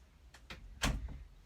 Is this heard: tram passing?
no